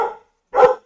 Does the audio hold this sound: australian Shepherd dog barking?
yes